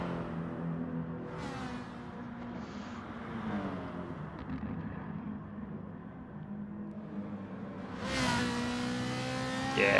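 A Ferrari racing car engine in a Gran Turismo-style racing game drones steadily throughout, with gear-change dips and a rising rev toward the end.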